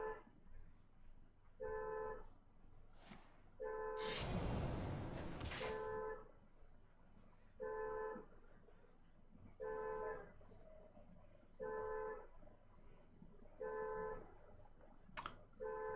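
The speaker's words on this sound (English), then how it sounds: "car horn honking in the background." Car horn honking repeatedly in the background, evenly spaced beeps about every two seconds, fairly faint and distant, with a brief louder rushing noise in between.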